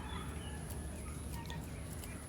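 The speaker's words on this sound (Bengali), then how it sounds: "সাথে সাথে আবার খাবার দিতে হলো আমার মুরগিদেরকেও" Pet chickens cluck faintly and intermittently at feeding time in a home garden, set against a steady background hiss.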